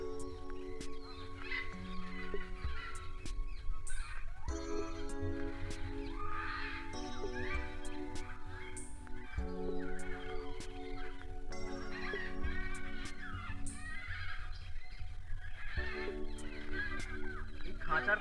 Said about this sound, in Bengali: আপনারা শুধু ম্যাকাওয়ের শব্দগুলো শুনুন।